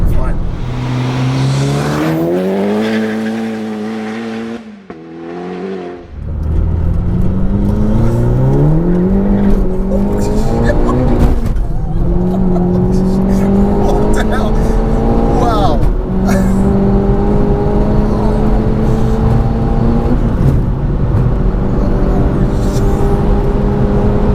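A turbocharged stage 3 SEAT Cupra making about 440 bhp revs hard while accelerating, its engine note climbing in pitch through repeated gear pulls, loud and close from inside the car, with a short dip in sound near the start.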